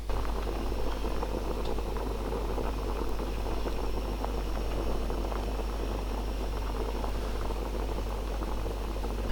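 Roasted red pepper and tomato sauce simmers in a pot, giving a steady, continuous bubbling hiss that stays even and fairly loud throughout with no voices.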